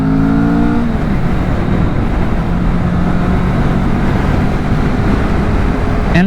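A 2024 Kawasaki Vulcan S motorcycle engine hums steadily while riding, with a continuous low drone and wind rush that briefly shifts pitch at the start, carrying on alone without talk.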